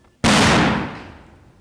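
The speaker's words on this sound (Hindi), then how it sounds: "अचानक फायरिंग" A single sharp gunshot during a commando bus-rescue assault exercise, loud and close, with a sudden crack followed by a long ringing decay over about a second and a half, no voices.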